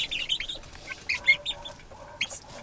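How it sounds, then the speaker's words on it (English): Several backyard chickens, including a Buff Orpington, cluck and chirp in short, irregular bursts at moderate distance in winter, with light rustling between calls and no talking. "There's the chickens."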